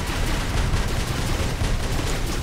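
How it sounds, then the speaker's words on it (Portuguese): Robot weapons fire steadily in the War Robots game on PC, with a dense, continuous rattle of shots and blasts that holds at an even, loud level throughout without a break. "Ó, ó como esse tiro verde tira pra caramba."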